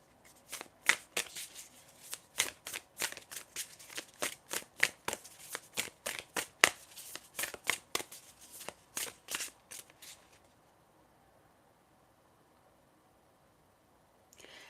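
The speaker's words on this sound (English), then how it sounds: "I'm going to shuffle now some tarot cards for you" Tarot cards being shuffled by hand: a rapid run of crisp riffling and slapping bursts for about ten seconds, close and fairly loud, then silence.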